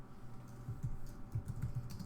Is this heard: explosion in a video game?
no